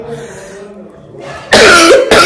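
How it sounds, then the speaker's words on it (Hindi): Dry, harsh coughing from a person who is ill with a fever: a quieter stretch, then two loud, close bursts of coughing that fill the end of the clip. "आई मीन खांसी, dry cough is like a constant"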